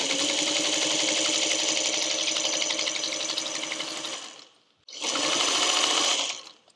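A sewing machine runs steadily stitching a quilt block seam for about four seconds, stops briefly, then whirs again for a shorter close, loud burst with no talking.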